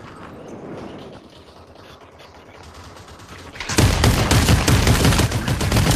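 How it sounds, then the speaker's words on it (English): Rapid gunfire in a video game, a quieter stretch giving way to a loud, dense burst of continuous shots that fills the second half, close and alone. "I'm shooting him."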